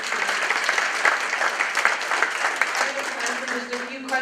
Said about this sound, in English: another round of applause for our great speakers today